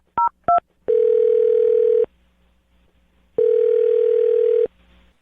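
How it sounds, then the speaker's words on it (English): A telephone number is dialed with two quick keypad tones, followed by two long, steady ringing tones separated by a silent pause, loud and clear with no one talking. "I'm going to dial her phone number right now"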